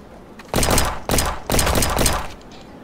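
Three loud, closely spaced shotgun blasts fired in a video game, each a sharp burst with a short decay, heard alone without talk.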